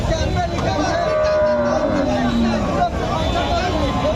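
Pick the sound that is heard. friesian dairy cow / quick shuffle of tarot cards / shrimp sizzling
friesian dairy cow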